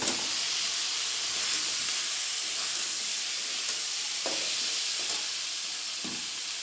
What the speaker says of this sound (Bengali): মশলাটা আমি ভালো করে কষিয়ে নিয়ে এবার আমি ওলগুলো দিয়ে দেবো।